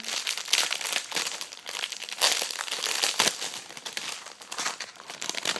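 Close crinkling and rustling of plastic packaging as a CréatizBox cupcake-themed craft kit is opened, continuous crackly handling with a few sharper crunches and no speech.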